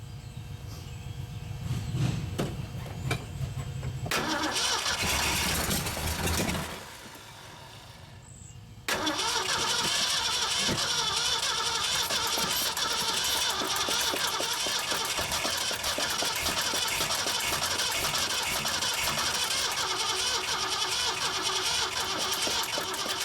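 A 1974 Mercury Comet GT engine, sitting for 14 years, cranks loudly on a cold start. The cranking runs steadily for several seconds, pauses briefly, then resumes and carries on continuously without catching.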